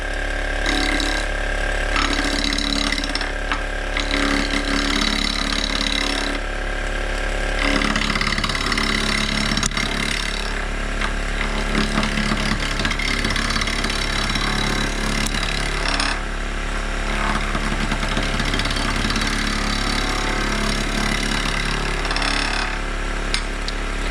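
Lathe spinning a wooden workpiece at about 2,000 RPM in a workshop while shavings are cut, a loud continuous mechanical whir with a steady low hum and intermittent scraping, rattling textures throughout.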